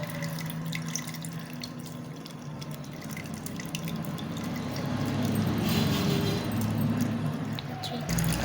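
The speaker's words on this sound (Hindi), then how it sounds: "इमली को अच्छी तरह से वॉश करके सारा पानी हमने इसमें शामिल कर दिया।" Soaked tamarind water is poured from a vessel into a thick, ground lentil dal in a home kitchen, giving a steady, soft liquid pour with light splashing and dripping, fairly quiet and without speech.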